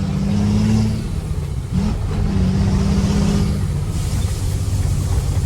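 A Ford Cargo truck engine revving steadily while warming up, a loud, close, continuous diesel drone with a brief dip and rise in pitch, no talk over it.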